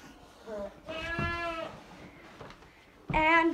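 Goats on a homestead bleat several times during a spa-day grooming session, with a wavering cry near the middle and a louder one close by at the end, over quiet background sounds.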